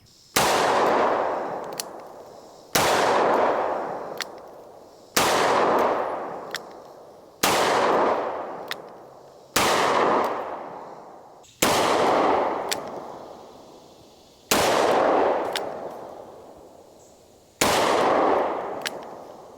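A shotgun fires 3-inch shells, Winchester Double X with 7.5 shot, outdoors in woods: eight loud, sharp booms at a steady pace about two and a half seconds apart, each trailing into a rolling echo.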